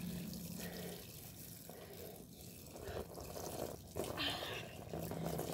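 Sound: garden shower running water

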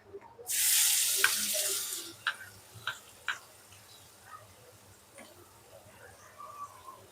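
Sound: onions frying in oil with garam masala powder

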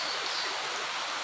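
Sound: rain falling at night

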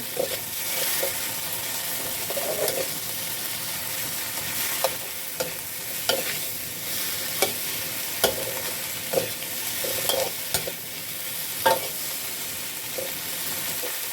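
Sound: stir-frying okra with egg in wok

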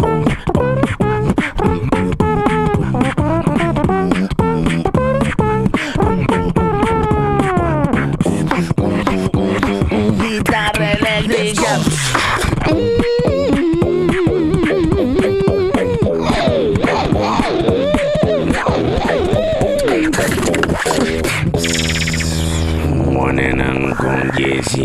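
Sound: beatbox imitating electric bass, drums and trumpet

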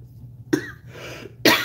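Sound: coughing

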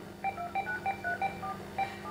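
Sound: telephone dialing tones in a radio drama

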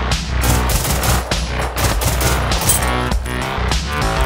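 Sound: machine gun fire in the video game Generation Zero

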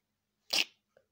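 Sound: person imitating a cat's sneeze

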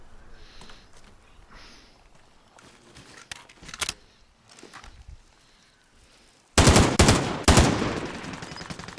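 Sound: gunfire in Call of Duty: Modern Warfare video game

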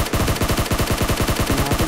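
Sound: gunfire in the video game PUBG Mobile

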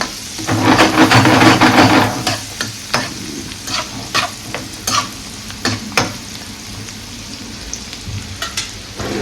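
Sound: onion frying and being stirred in a pan

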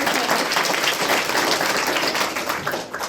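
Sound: audience clapping

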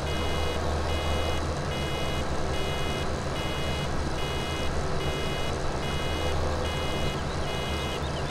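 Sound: reversing beeps of a vehicle in video game Farming Simulator 17

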